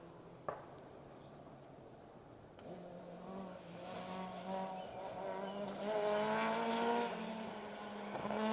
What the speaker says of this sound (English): Proper rally car noises. Echoing around the Welsh hillside.